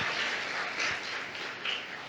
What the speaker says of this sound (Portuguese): Vamos aplaudir a atitude da Andressa?